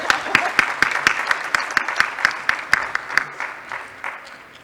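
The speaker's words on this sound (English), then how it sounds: "A round of applause for them." An audience at a summit plenary session applauds the presenters, with a steady burst of many hand claps in a large room that holds for several seconds and then gradually thins out.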